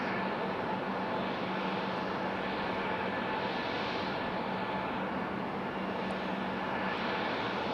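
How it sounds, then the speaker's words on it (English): A Copa Airlines airliner pushing back on the ground at Raleigh-Durham International Airport, giving a steady, continuous engine and ground-equipment roar that stays even and unbroken throughout. "Copa Airlines pushing back"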